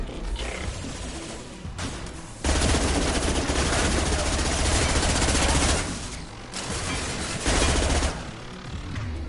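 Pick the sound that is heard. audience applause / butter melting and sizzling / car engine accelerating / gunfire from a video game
gunfire from a video game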